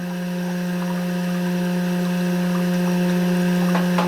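Cream separator running steadily with its water supply turned wide open, giving a continuous loud mechanical whir and hum with rushing water, unbroken throughout and alone without talk.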